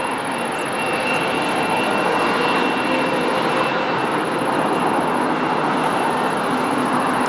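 A jet airliner sits at Lisbon Airport during pushback, its engines making a steady loud broadband roar with a faint high whine that holds constant throughout.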